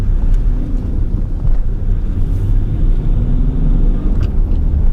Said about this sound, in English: You really have to jam your foot down to get the turbo going and waft down the road.